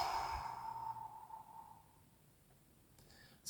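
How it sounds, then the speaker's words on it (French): One soft, breathy exhale through the mouth during belly breathing, fading away over a couple of seconds in a quiet room. "Vous allez expirer par le ventre, c'est-à-dire en retirant tout l'air du corps que vous avez dans le ventre, vous l'expirez par la bouche"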